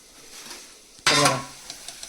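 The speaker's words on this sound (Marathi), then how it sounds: "पाणी सुटायला पाहिजे म्हणून परत ठेवतो झाकण त्याच्यावरती" A lid goes back onto a cooking pot of village-style crab curry with one sudden metallic clank that rings briefly, then soft sizzling and a few small clicks follow, with no speech.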